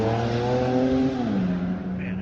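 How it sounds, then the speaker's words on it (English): An Infiniti G35 with an aftermarket exhaust drives past in a park, giving a steady droning engine note that shifts pitch partway through as it goes by, with no talking. "I hate the way G35 sound with exhaust. That sounds terrible."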